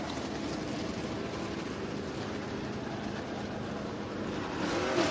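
Dirt race cars run hot laps at Duck River Raceway Park during The Gobbler, a steady distant engine roar that holds evenly and swells slightly near the end, with no talking over it.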